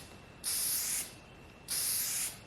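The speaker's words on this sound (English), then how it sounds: "And you're just going to spray." Two steady hissing bursts from an aerosol spray can of sealant over acrylic paint on a candle jar, each about half a second long, close by and separated by a short pause.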